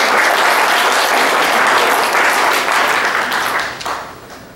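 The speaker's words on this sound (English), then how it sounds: "Let's give her another round of applause." A conference audience claps loudly and steadily, a dense close wash of applause that fades slightly toward the end, with no clear talk over it.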